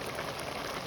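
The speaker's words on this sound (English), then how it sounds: "this is a rainy day" Rain falls steadily outside a house on a rainy day, a dense, even hiss with no breaks.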